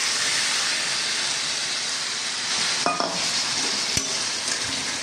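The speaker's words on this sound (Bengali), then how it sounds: "এখন আমি এর মধ্যে দিয়ে দেবো" Potato and pointed gourd pieces fry in a pan as a paste of ginger, garlic, tomato and onion with whole cumin goes in, giving a steady loud sizzle with a couple of sharp clinks and stirring scrapes midway.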